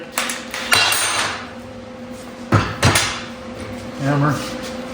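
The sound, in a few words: hammer striking metal on RV tire mount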